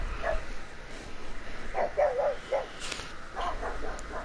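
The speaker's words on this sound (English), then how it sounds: "they'd bark at anything outside." Dogs bark in a short cluster of several barks at moderate distance, followed by a couple of fainter yips, over a steady background hum.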